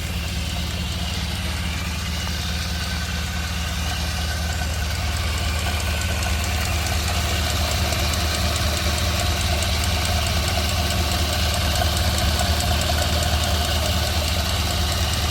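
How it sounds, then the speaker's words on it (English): A 1930 Ford Model A Tudor sedan idles, fitted with a Model B motor and C head. The engine runs with a steady, even, close-up idle for the whole stretch. "Let's go ahead and get this thing fired up so you guys can hear it run."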